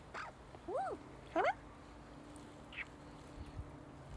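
A bird, likely a duck, quacks in a few short nasal bursts over the first second and a half, then goes quiet with faint scattered noises, outdoors on a cold, overcast day near water.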